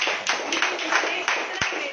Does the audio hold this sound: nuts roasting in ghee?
no